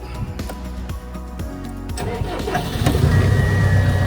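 A tracked machine with dual joystick controls starts up, its engine cranking with uneven clatter before catching and settling into a steadier, louder mid-pitched running rumble, heard up close.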